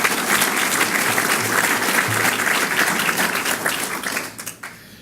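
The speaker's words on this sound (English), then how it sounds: "Now you can applaud." A large crowd applauds, dense continuous clapping that holds steady and then fades out near the end.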